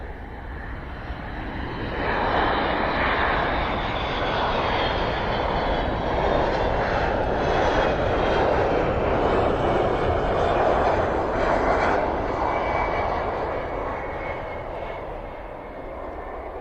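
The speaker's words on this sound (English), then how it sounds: "And there we go, touchdown. I can still hear aircraft." A military aircraft landing at RAF Mildenhall, a loud continuous engine roar that swells as it passes close, holds steady, then slowly fades, with no talk.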